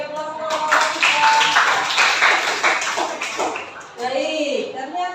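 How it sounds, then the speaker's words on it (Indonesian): A classroom group claps for group 3 at a teacher training session, a dense burst of applause lasting a few seconds before a voice speaks. "Beri aplaus untuk kelompok 3."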